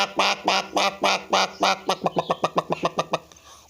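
A wild water hen that feeds in water calls loudly and up close, starting with a few long, harsh cries and then breaking into a quick run of short, clucking notes.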